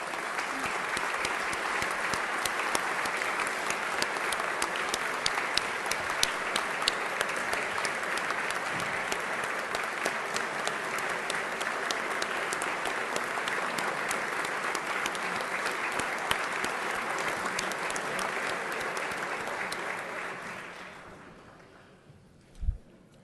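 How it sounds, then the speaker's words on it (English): Sustained audience applause fills a hall during the Oklahoma governor's 2014 State of the State address, dense steady clapping from a large crowd that goes on for about twenty seconds before tapering off quickly. "Let's give them a round of applause."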